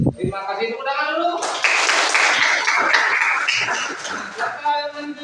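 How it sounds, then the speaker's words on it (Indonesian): An audience bursts into a few seconds of lively clapping at an indoor gathering, framed by a person talking before and after the applause. "tepuk tangan dulu"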